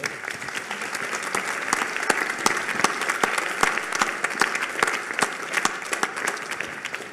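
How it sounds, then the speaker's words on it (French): An audience applauds after the fourth round table of a French conference, dense sustained clapping from a sizable crowd, steady and even throughout. "je propose de vous applaudir pour cette 4e table ronde"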